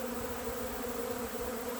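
Honey bees buzz steadily around a dry supplement feeder in an apiary in spring, a dense continuous hum close by with no voices.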